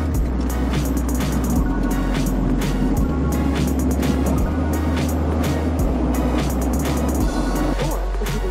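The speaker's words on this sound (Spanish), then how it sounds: "Ahora estoy llevando el carro para lavarlo." A car is driven at a house, heading off to be washed: a steady, close engine drone with a low rumble that shifts pitch in steps, like changes in speed, with no voices.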